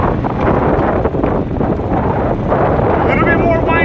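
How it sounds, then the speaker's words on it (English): Strong wind buffets an outdoor microphone, a steady loud rumble throughout a cross-country course walk on a blustery day. "A little bit more windy than usual."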